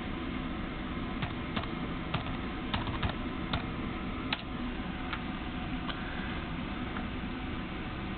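A computer keyboard types a library card number at a library checkout, with a scattered run of crisp, close key taps over a steady background hiss and no talking.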